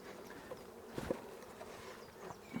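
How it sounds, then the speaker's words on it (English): Honeybees buzz faintly in a soft, continuous hum while being moved into a full hive, with a few brief louder drones as individual bees pass close. "it's absolutely full of bees"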